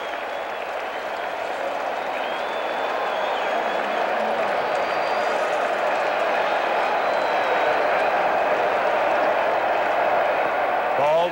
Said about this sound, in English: And the Mets go in front 2-1. And the crowd responds.